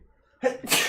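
A person sneezes once, close and fairly loud: a quick sharp intake followed by the burst of the sneeze, after a near-silent start.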